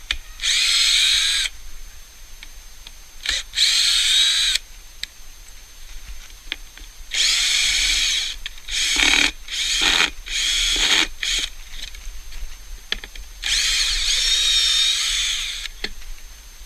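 A power drill works in repeated short bursts while concrete formwork is removed from a cast bull's-eye window. Each whining spin is close and loud, separated by brief quiet pauses, with no speech.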